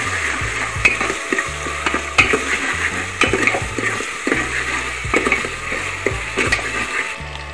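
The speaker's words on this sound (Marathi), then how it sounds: "इथे मी 2 चम्मच अद्रक लसूण पेस्ट घेतलेली आहे, ते सुद्धा चांगल्या प्रकारे परतून घेणार आहे" Ginger-garlic paste sizzles and is stirred in a hot pan for mutton curry, with a loud, continuous frying hiss and repeated scraping and clinking of the spoon against the pan throughout.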